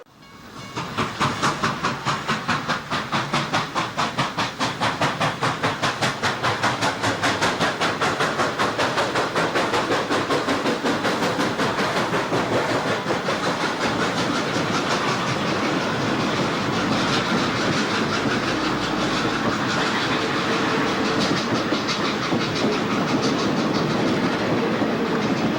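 Steam locomotive 765 hauls a train on the return leg to Bellevue, loud and close throughout. Rapid exhaust chuffs and a constant hiss of steam run over rolling wheel noise for the whole stretch.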